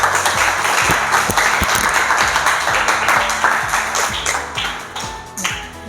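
A classroom of students applauds a presenting group at the end of their presentation, a loud, busy burst of many hands clapping that gradually thins toward the end.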